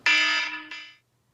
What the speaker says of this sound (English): we're back after that terrible sound of the alarm